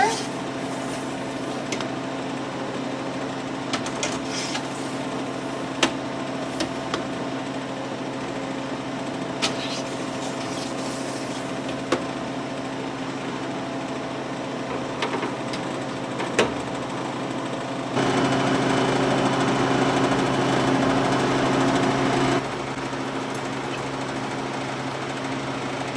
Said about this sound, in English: The candy is in the freeze dryer, it is going